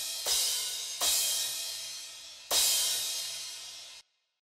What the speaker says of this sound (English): I used 3 different samples, panned left and right.